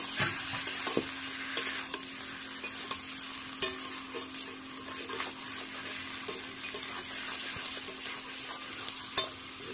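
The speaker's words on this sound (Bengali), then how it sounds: "সেদ্ধ করে নিয়ে ভাজা আলু। ভালো করে নেড়ে চেড়ে মিশিয়ে নিচ্ছি।" Boiled then fried potatoes for aloo dum are stirred in a pan: a steady, fairly quiet sizzle with scattered spatula scrapes and clicks against the metal, with no voices.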